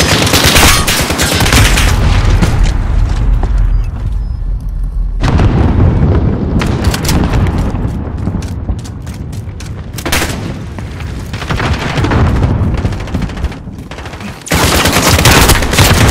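Dense automatic gunfire and booming explosions in a Call of Duty: Modern Warfare team deathmatch, loud sustained bursts and rattling volleys with brief gaps, punctuated by sharp blasts.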